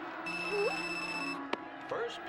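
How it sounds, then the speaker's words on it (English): A cell phone rings with a steady electronic ringtone, one sustained burst of bright tones followed by a sharp click and softer sounds after it stops. "And that's right about the time my cell phone started ringing."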